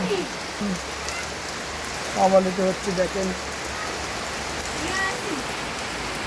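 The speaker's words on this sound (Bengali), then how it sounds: "দেখেন আলাতুন বৃষ্টি আর বৃষ্টি, বৃষ্টি আর বৃষ্টি।" Heavy, steady monsoon rain pours down with a dense hiss amid flooding, while someone speaks briefly over it.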